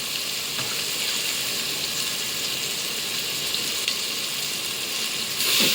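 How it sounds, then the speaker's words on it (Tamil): Goat meat goes into a pan of frying tomatoes, giving a steady loud sizzle that holds evenly, with a slight surge at the end. "இப்போ கறியை எடுத்து போட்டுக்கிறேன்."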